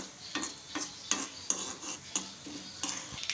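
Cumin and asafoetida temper in hot oil as a spoon stirs them, giving a soft, steady sizzle under repeated rhythmic scrapes and light metallic clinks against the pan, close and fairly quiet.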